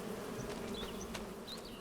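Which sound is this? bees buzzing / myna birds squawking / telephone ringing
bees buzzing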